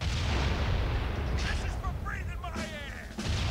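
Gunfire and artillery in The Outfit video game: a steady, dense rumble of distant shelling and shots, with muffled voice-like sounds faintly underneath.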